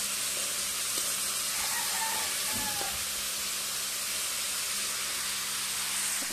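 Meat frying in a pan, a steady, even sizzle and hiss that holds at moderate loudness with small crackles, no talking over it.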